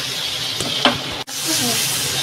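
Pieces of marinated chicken, cooked tandoori-style at home, fry in butter in a pan. A loud, close, steady sizzle and hiss fills the whole stretch, dipping briefly once and then surging back.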